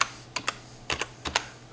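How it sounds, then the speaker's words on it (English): Keys clatter on a computer keyboard in short bursts of two or three quick strokes separated by brief pauses, close and fairly crisp, with no talking over them. "Type in the box."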